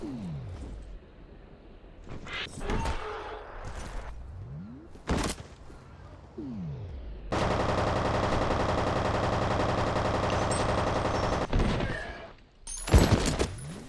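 Gunfire from a P226 pistol in the 2008 PC video game SAS Secure Tomorrow: sharp isolated shots and thuds, then a long loud stretch of rapid, continuous fire, ending with a few more bursts.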